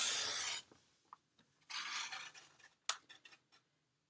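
Quiet scraping and rasping as a blade cuts through card along a ruler guide, in short close strokes with small ticks and pauses between.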